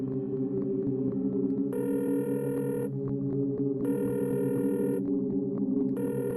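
A telephone ringing back on speakerphone, with repeated ring bursts of about a second separated by pauses, over a steady hum, with no voices.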